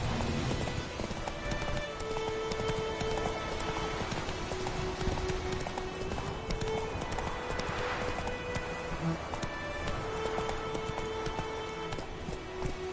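Roach the horse galloping in The Witcher 3: The Wild Hunt, a continuous rhythmic clip-clop of hooves up close over an ambient game backdrop, with a brief voice in between.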